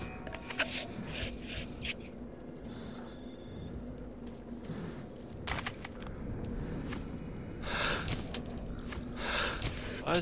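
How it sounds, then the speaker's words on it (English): Heavy, labored breathing of a character without a gas mask in Metro 2033 Redux, ragged gasps and snorts over a low game ambience with a couple of sharp bursts. "Why does my dude keep breathing like he is? What the hell? Sounds like he didn't have his mask on."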